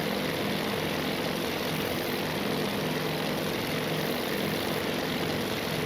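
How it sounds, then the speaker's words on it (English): A Douglas SBD-3 Dauntless dive bomber's propeller engine drones in the Task Force Admiral video game, a steady, unbroken, fairly loud roar with no break or change in pitch and no talk. "Ammon is flying a Douglas SPD-3 Dauntless dive bomber from VB5"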